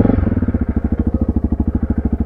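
A modified Honda CRF300L motorcycle engine runs nearby at a steady idle, giving a loud, rhythmic thumping pulse with a rapid, even beat.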